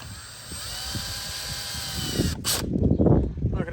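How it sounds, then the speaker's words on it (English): A power drill whines steadily, then bogs down with a lower, rattling grind as it drives a screw during an 18-foot Intex pool installation. No talking. "drill it in on both ends."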